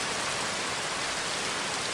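Steady heavy rain drums on a treehouse's overhanging roof in a rainforest, a dense, even hiss with no breaks, loud and close, with no voices.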